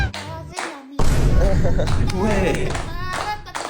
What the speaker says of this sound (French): Les copains et les copines, on applaudit pour l'anniversaire de Tess